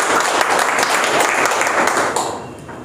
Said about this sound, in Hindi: इसलिए एक बार जोरदार तालियां आप सब लोग अपने लिए बजाइए।